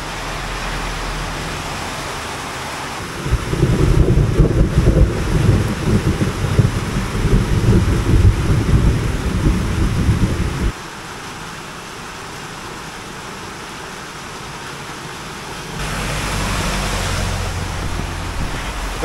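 Heavy rain pours in the Cordillera mountains as a steady broadband roar that swells into a much louder, rumbling downpour for several seconds, drops back, then rises again toward the end.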